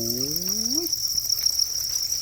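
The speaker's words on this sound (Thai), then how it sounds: "สังเกตตัวมันนะครับ ตัวจิ้งหรีดที่ขึ้นมาไข่" Crickets chirp in an egg-laying tray, a steady, shrill, unbroken trill that runs throughout at an even level. A few brief rising tones come near the start.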